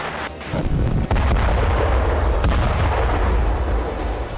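Artillery explosions from the war in Ukraine boom and rumble in a dense, continuous barrage, loud and close, with heavy low-end blasts layered over one another.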